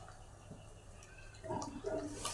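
Mackerel pieces are stirred into a Bangude fish curry, giving a quiet liquid swish and slosh that grows louder toward the end, with no talk.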